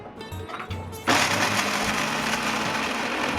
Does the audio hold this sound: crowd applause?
no